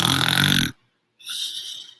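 A person imitates someone's snoring up close: a loud, rattling snort on the inhale, a brief silent pause, then a softer, hissing breath out.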